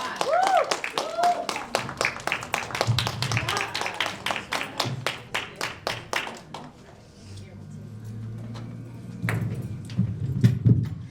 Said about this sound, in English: Y'all give the Empress one more round of applause.